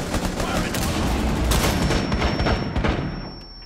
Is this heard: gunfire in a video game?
yes